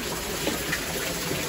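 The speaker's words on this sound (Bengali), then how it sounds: "পানি পড়তেছে" Water drips and trickles down from above inside a cave, a faint, even wash of splashing with no voices.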